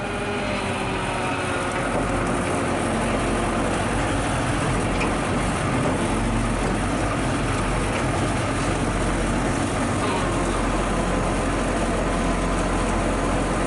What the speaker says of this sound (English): All right, we're winching through the mud.